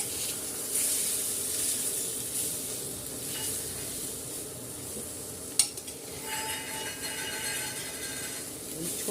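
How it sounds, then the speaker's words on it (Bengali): Chickpeas for chana curry are tipped into a pan and stirred, with a soft steady sizzle and hiss under scraping, one sharp utensil knock midway, and continued frying and stirring close by. "এবার আমি এই ছোলা দিয়ে দিচ্ছি।"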